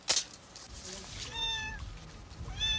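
A domestic cat in a rural high-Sierra household meows several times, clear and fairly close, with drawn-out tonal cries following a sharp opening sound and faint background noise.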